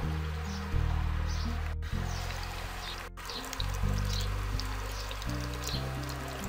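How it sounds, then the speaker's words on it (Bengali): Egg chops (Bangladeshi snack), battered and dropped into hot oil to deep-fry, give a steady, fairly loud sizzling hiss that runs the whole time, with music underneath. "এখন আমি গরম তেলের মধ্যে সবগুলো দিয়ে দেব।"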